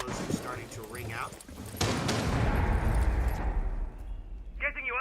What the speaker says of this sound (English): Explosion starting to ring out.